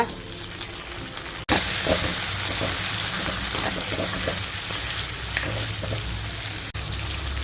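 A cut medium-size tomato sautés with softened onions in a pan for a Tamil green lima bean kootu, giving a loud, continuous sizzle with stirring clatter and two brief cuts in the sound.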